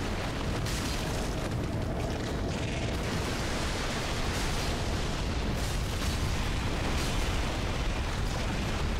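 Dark Souls III's lakeside area rumbles with a heavy, continuous roar of ballista bolt impacts and blasts, dense and loud throughout with no pauses and no speech.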